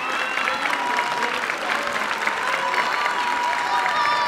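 A studio audience at a Georgian singing contest final, Ranina, applauds the three finalists with steady, dense clapping that fills the whole stretch with faint cheers mixed in.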